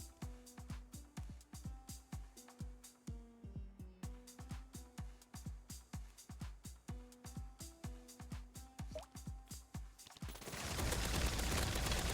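Gunfire in the shooter Half-Life: a steady rhythm of sharp, evenly spaced shots repeating for about ten seconds, then giving way to a loud, sustained noisy burst at the end; no one speaks.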